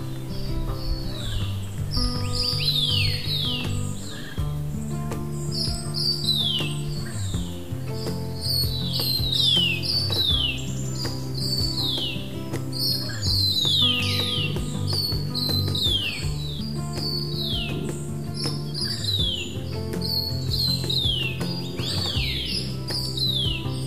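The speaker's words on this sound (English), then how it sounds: "in the trees a lot of birds" Many birds chirp and trill in forest trees on a mountain route near Guanwu, Taiwan, with repeated bright calls layered over a steady insect hum and a constant background drone, no voices present.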